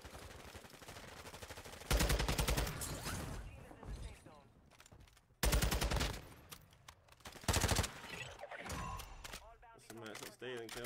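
Gunfire in the video game Battlefield crackles in sharp bursts and sudden loud volleys, separated by quieter stretches of clatter and mechanical noise, with voices talking in the background.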